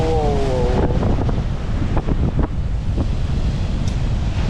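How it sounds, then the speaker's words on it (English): Strong wind in Tallinn buffets the microphone outdoors with a constant loud, low roar and rumbling gusts, and a few brief whistling tones sound near the start. "believe me, the wind is insane"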